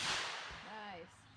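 At an outdoor shooting range, a single sharp gunshot crack hits an exploding water bottle target, followed by a brief fading ring.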